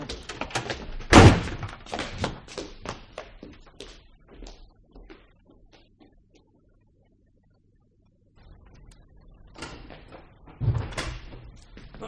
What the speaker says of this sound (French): Ferme la porte, Martin.